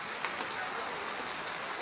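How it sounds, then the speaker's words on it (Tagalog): Heavy rain pouring steadily, a dense continuous hiss of drops drumming on surfaces close by. "Lakas ng ulan, no?"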